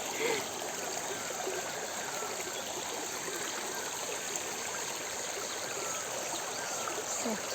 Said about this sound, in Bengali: এই নদী যাচ্ছে এদিক দিয়ে, নিজের মতো বেরিয়ে গেছে